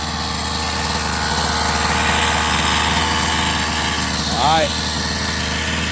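A Rovan 45cc gasoline engine runs at a steady, buzzing drone after a repair to its unbalanced clutch. A voice speaks briefly over the engine near the end.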